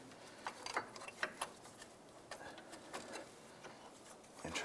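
Faint mechanical clicks and light scraping as a bolt is spun out by hand from the rear engine mount of a 2001-2005 Honda Civic, sparse irregular ticks close up in a quiet setting.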